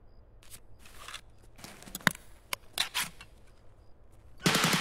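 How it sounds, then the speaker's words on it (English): Video game gun firing, a weapon that sounds like a mix of an MPX and an AK, heard as sharp, loud shots and quick bursts spread irregularly across the clip, ending in a dense, sustained burst of fire. "That gun sounds crazy when you shoot it"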